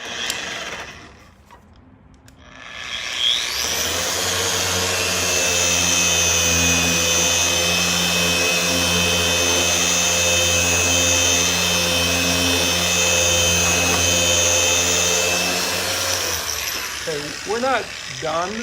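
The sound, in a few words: Flex XFE 7-12 80 polisher running at maximum speed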